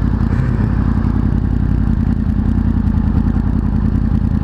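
Motorcycle riding, a loud continuous engine drone mixed with heavy wind rumble and clatter, steady throughout with no talking.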